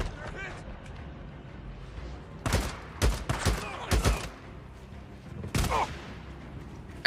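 Several bursts of gunfire from the Days Gone video game, clustered shots between quieter stretches with a final crack at the end, over a low ambient background.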